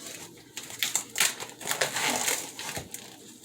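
Plastic packaging of sirloin tip steaks being torn and opened in a kitchen, a run of close crinkling, crackling and tearing noises with brief sharp rustles, no talk over it.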